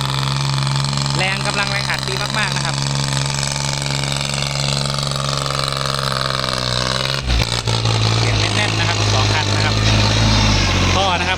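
Kubota L3408 tractor engine running steadily in high gear while plowing and pushing soil, a loud continuous diesel drone that shifts pitch and grows heavier partway through, with someone talking over it.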